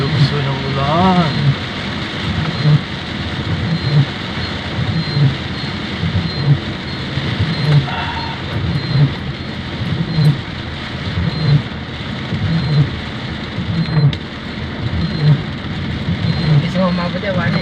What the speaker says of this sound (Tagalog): Grabe ang lukso ng ulan.